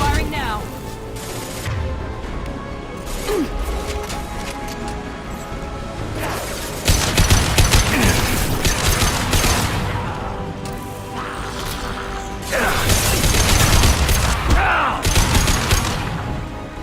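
Gunfire in a Mass Effect 2 firefight, with repeated shots and impacts over steady game noise, growing louder in bursts near the middle and end while voices talk over it.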